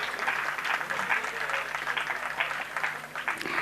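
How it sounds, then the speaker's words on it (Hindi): Audience applause at a cultural society awards ceremony, a continuous patter of many hands at moderate level, slightly blurred and muffled as if in a hall, with a faint murmur of voices underneath. "जोरदार तालियां दोनों के लिए।"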